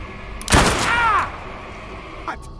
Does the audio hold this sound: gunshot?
yes